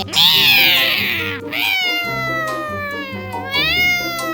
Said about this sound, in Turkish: Kara kedi, pis kedi.